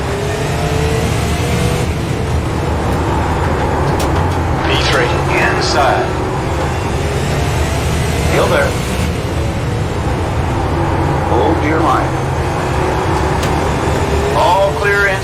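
Super late model race cars roar in a dense pack at the green flag of a 125-lap RAID Super Late Model Tour race, engines loud and continuous with rising revs and cars sweeping past throughout, a radio voice faintly mixed in.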